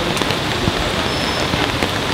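Steady rain pours onto a city street in Sydney during an outdoor protest, a dense, close, continuous patter and hiss without pause.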